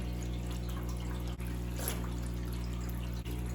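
Water pours steadily into a 100 gallon guppy aquarium tank, a faint, continuous rushing wash over a low constant hum, with no talking.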